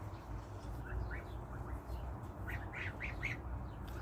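Young geese (goslings) call in a series of short, faint squawks and peeps over a steady low background hum, clustering more densely in the second half.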